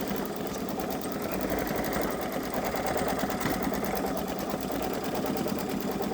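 A Babylock Solaris 3 embroidery machine stitches a flower and hummingbird design, giving a steady, fast mechanical whir with even rapid ticking that runs unbroken and close throughout.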